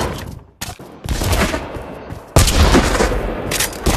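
Rapid AK rifle gunfire in the VR shooter Pavlov, close and loud bursts of shots with booming impacts, broken by a brief pause before another heavy volley.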